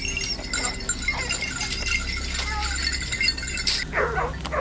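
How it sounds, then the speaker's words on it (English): Hunting dogs barking and yipping in bursts from dense bushes ahead during a wild boar hunt, mixed with rustling and outdoor noise, moderately loud and a little distant. "the harsh barking echoed from the dense bushes up ahead"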